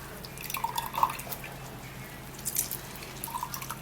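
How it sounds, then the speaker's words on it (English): Juice drips from a squeezed in-season orange: a few sparse, bright drops land near the start, another small cluster follows toward the end, quiet and close, with no talking. "what we're going to do now is to squeeze in the orange"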